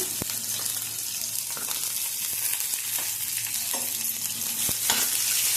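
Onion, four cloves of garlic and ginger fry together in a pan for a chutney, a continuous bright sizzle with a few sharp stirring clicks and scrapes close by, and no speech.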